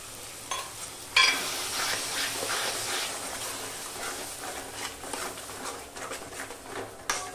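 Masala with whisked sour yogurt and a little sugar sizzles in oil in a pan for hotel-style pepper prawn masala, with steady scraping stirs and a sharp clatter of utensil near the start; close and moderately loud, no talking.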